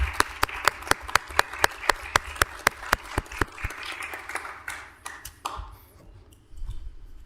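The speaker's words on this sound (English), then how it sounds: "How about a round of applause?" At a Roseburg city council meeting, after a Red Cross Month proclamation, a small group gives a brief round of applause: crisp, rhythmic individual claps that thin out and fade after about four seconds.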